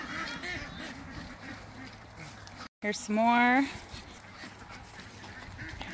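A nearby duck on a homestead gives a short burst of quacks amid outdoor background noise, with a person speaking briefly.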